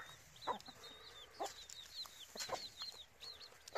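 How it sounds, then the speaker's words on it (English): Baby chicks and chickens on a farm: a steady run of high, thin chick peeps over intermittent hen clucks close by, with no talking. "Here's the baby chicks over there."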